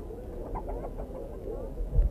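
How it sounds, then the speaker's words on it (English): A chicken clucks in a few short calls at mid-distance over a low outdoor rumble, heard during a cloudy solar eclipse, with a brief louder bump near the end. "I thought I heard a chicken clucking"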